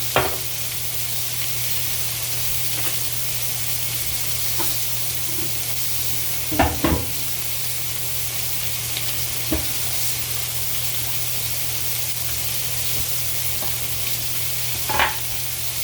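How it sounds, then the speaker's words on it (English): Brown sugar balsamic lamb chops sear in a pan with a loud, even, unbroken sizzle, punctuated by a handful of sharp clicks and knocks from utensils, with no talking. "I'm going to sear this on both sides"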